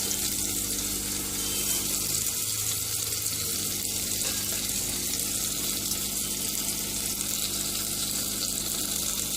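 Mustard seeds, urad dal and curry leaves fry in hot oil alongside onions for a traditional moringa leaf curry, giving a steady, close, bright sizzle that stays even throughout with no talking.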